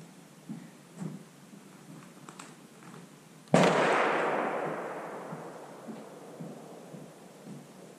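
A single loud rifle gunshot firing a 150-grain .30-caliber Badlands Bulldozer 2 round in 300 Blackout, a sharp blast followed by a long echoing decay outdoors, with faint quieter sounds before it.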